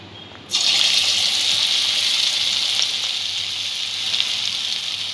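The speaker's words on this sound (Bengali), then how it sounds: "এবার বড়াগুলো এক এক করে ভেজে নেব।" Noodle pakoras hit hot mustard oil with a sudden loud burst of sizzling that settles into a steady, bright bubbling hiss.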